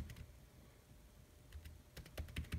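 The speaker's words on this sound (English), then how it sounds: "we just have to type device tree" Typing on a computer keyboard, a handful of quiet, close key clicks that come sparse at first and then speed up into a short burst.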